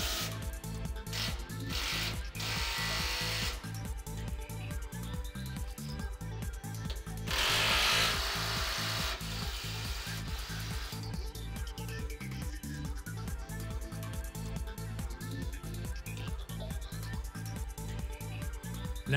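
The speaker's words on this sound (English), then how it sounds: "Now tighten all 8 screws." A power tool drives screws during furniture-style assembly, producing a steady repetitive rhythmic whirring pulse across the whole stretch, with a brief louder burst near the middle and background music-like tones, no speech.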